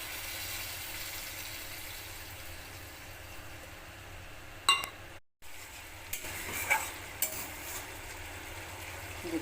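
Prawn malai curry with mustard paste bubbles and sizzles steadily in a pan, a continuous close simmer broken by a brief gap and a few clinks of a utensil, with no talking.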